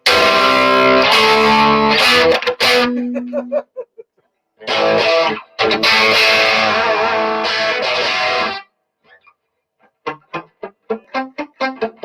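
Overdriven electric guitar chords through a Blackstar amp set to its American voicing, played loud and sustained, then a pause followed by quick staccato muted picking notes.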